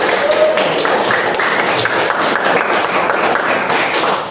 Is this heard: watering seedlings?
no